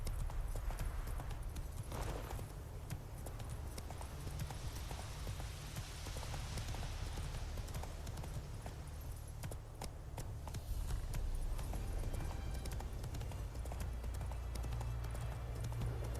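Roach, a horse in The Witcher 3 video game, gallops with rapid rhythmic hoofbeats that stay close and steady throughout, under a low ambient rumble.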